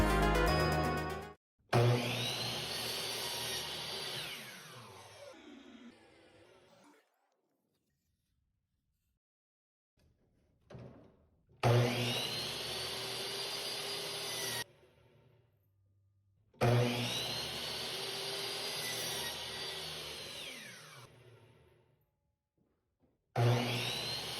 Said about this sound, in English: You're cutting it with a jigsaw so that they can be easy to mess up.